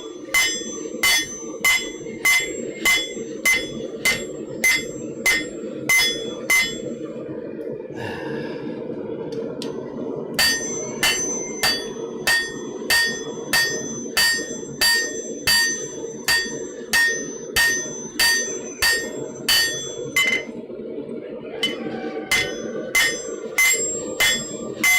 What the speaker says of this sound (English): This hammer gives me a workout.